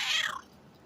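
A tomcat gives a single short meow, close and fairly loud, fading into quiet room noise.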